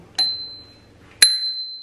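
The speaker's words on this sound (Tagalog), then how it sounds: "And meron din tong bell mga palangga." A bicycle bell rings twice about a second apart, each a bright, close metallic ding with a ringing tail, and nothing else is heard around it.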